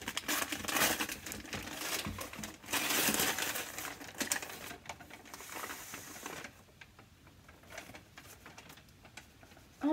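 Gift wrapping paper crinkles and tears as a wrapped book is opened, with bursts of close, busy rustling that ease into softer handling toward the end.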